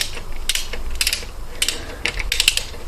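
Torque wrench ratcheting in short clicking bursts while tightening head bolts on a 1995 Jeep Cherokee XJ, following a torque pattern; the crisp ratchet clicks come close and repeat in clusters with brief pauses between.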